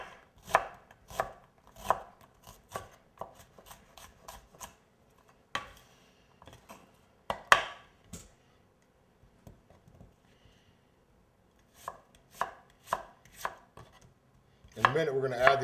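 Nearby, a knife chops onions on a cutting board for a soup, sharp knocks landing in irregular clusters, some quick runs of strokes, with short quiet gaps between them.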